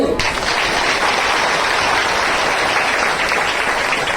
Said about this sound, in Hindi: ताली बजा जोर से।